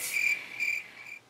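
Crickets chirping in three shrill, pulsing trills, close and steady with nothing else around them.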